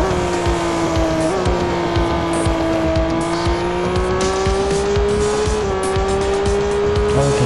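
A car in Real Racing 3 holds a continuous skid, its tires letting out a sustained high squeal over a loud, steady engine drone, the pitch wavering slightly throughout.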